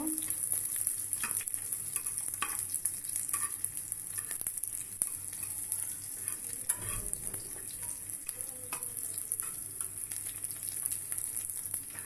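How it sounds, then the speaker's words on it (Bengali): Bottle gourd fries in hot oil with onion and garlic, giving a steady, close sizzle with occasional stirring clatter throughout. "পেঁয়াজ এবং রসুন ভাজা হলে সুন্দর করে লাউ দিচ্ছি ভেজে লাল লাল করে নেব"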